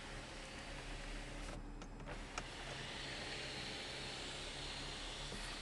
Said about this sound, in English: Power sunroof. This is also a one touch.